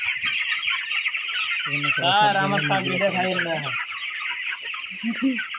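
Broiler chickens at a poultry market, with heavy birds sold to one side, give constant, fairly loud clucking. A burst of overlapping squawks rises in the middle.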